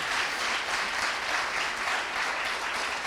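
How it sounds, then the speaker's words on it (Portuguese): Church congregation at a Sunday evening service applauds in a continuous, even wash of clapping, moderately loud and unbroken. "Você pode aplaudir o Senhor?"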